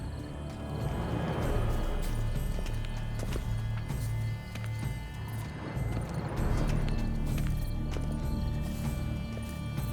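Horse hooves clip-clop steadily in The Witcher 3: Wild Hunt, Blood and Wine, a continuous rhythmic trot of moderate loudness with a faint whinny-like sound in the background.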